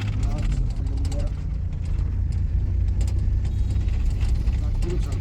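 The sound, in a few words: manual car engine, shifting into second gear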